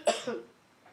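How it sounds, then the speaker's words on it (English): Indoors at a commission meeting during a vote, one person coughs twice in quick succession, close and fairly loud, and a faint third cough follows in the quiet room. "No coughing during the voting, please."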